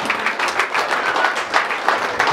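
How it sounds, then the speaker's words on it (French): Church congregation applauding and cheering during a French evangelical worship service, dense steady clapping filling the hall throughout with scattered shouts. "nous acclamons notre Seigneur très fort"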